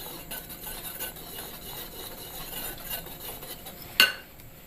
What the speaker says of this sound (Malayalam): എല്ലാം കൂടി ഒന്ന് മിക്സ് ചെയ്യണം.